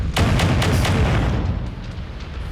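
Ultra AC5 autocannons in MechWarrior 5 fire in a rapid Gatling-style string of heavy booms, several close thumping blasts in quick succession that fade into a rumbling tail.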